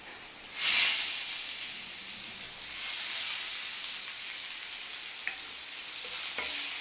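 Black cumin and onion hit hot oil with a sudden loud hiss, then settle into a steady close sizzle with brief stirring sounds, a few small clicks near the end, and no voices.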